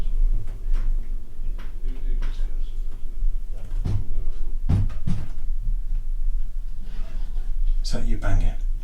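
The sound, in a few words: banging on a door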